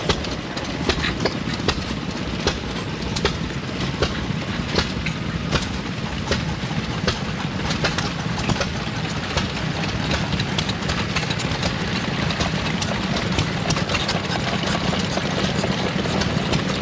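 Several antique gas engines at the Midwest Old Threshers show chug and idle steadily nearby, with rhythmic popping exhaust beats and a constant low mechanical rumble.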